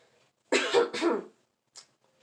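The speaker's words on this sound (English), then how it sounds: "He started to cough." A man gives two quick, harsh coughs close by, followed by silence and a faint short breath.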